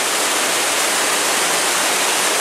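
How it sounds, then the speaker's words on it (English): A small waterfall along the Superior Hiking Trail gives a steady, even rush of broadband water noise, fairly loud and unbroken throughout, with no voices. "it goes over a little waterfall right there"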